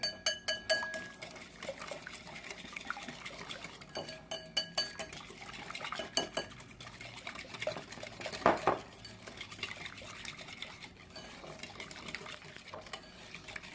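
Coleslaw ingredients are stirred together in a bowl, with a utensil clinking and scraping against the sides in quick irregular bursts, close and fairly quiet.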